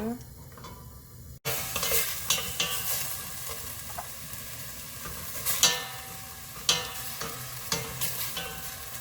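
A spoon stirs seaweed soup ingredients with tofu in a pot, a quiet background sizzle broken by a sharp onset and then repeated scraping strokes at irregular intervals, close and without talk.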